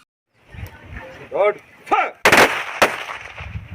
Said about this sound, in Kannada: ಮೂರು ಸುತ್ತು ಗಾಳಿಯಲ್ಲಿ ಗುಂಡು ಹಾರಿಸಿ